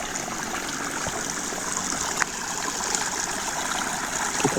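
Clear water from the Cikendi spring, a colonial-era spring beside a village mosque, flows and trickles steadily in a continuous rushing babble heard close up, with a few small splashes and no talk.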